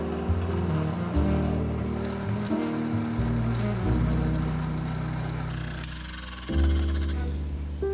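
A grain mill grinds hard white wheat berries with a steady, low motor hum that shifts pitch in a few abrupt steps, loud and without talk.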